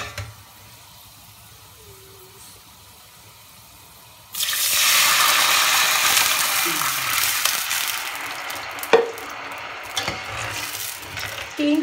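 After a quiet start, water suddenly pours into a hot pot of cooking rice with a loud hissing sizzle that continues, followed by a few clanks and stirring sounds.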